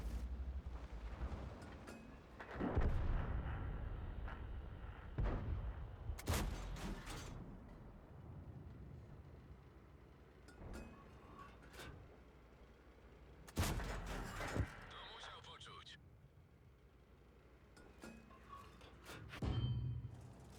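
Heavy Tank No. VI firing its cannon in World of Tanks, several loud booming shots spaced over a stretch of quieter engine and battlefield rumble, with one big blast near the middle and another toward the end.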